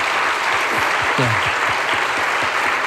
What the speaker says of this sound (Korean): 축하의 박수부터 합니다